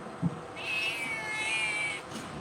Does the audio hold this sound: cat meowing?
yes